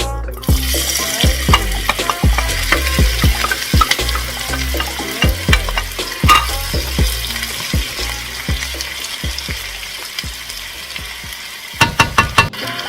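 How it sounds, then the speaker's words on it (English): Onions sweat in olive oil in a wok under a bright, steady sizzle, with frequent sharp utensil knocks and scrapes against the metal that close in a quick cluster of clacks; near and loud, with no speech. "I'm gonna sweat off these onions for at least 4 to 5 minutes, just until they turn translucent"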